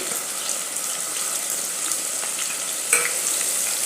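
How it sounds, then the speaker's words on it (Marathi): Vertically sliced onions frying in oil inside a pressure cooker for egg biryani, a steady broadband sizzle with light stirring scrapes and a brief louder clatter near the end, no talking. "आता याला आपण व्यवस्थित गोल्डन ब्राऊन रंग येईपर्यंत आपण याला तळून घेऊया"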